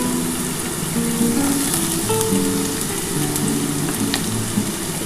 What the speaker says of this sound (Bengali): একটু আলুটা একটু হালকা করে ভাজার পর আমি পেঁয়াজ কলিটা দেবো।